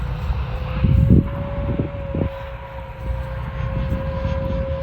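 Freewing Hornet RC model jet flying overhead, a steady whining ducted-fan tone holding throughout with gusty wind noise, moderately distant and without speech.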